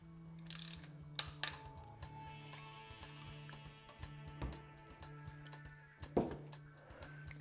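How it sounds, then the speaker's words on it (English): Close, quiet ratcheting clicks and small metallic ticks as a torque wrench tightens a SRAM Red Force AXS rear derailleur mounting bolt to 6 Newton meters, an irregular run of short clicks over a faint steady hum. "We can finish tightening the mounting bolt, and then this is going to go torqued to a value of 6 Newton meters"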